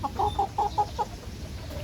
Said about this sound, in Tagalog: manok ni Aling Mimay na to